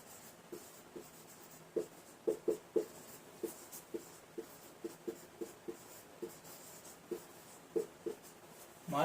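Marker strokes squeak and tap on a classroom whiteboard in a steady run of short, distinct bursts, nearby and alone, with no talking over them.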